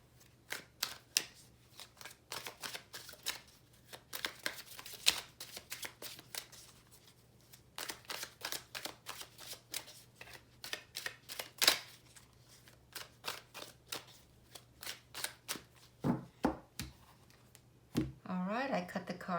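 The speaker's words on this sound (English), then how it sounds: "I will go ahead and shuffle the cards." Repeated crisp riffling and slapping of a deck of tarot cards being shuffled, in quick bursts with short pauses, close to the microphone, over a low steady hum.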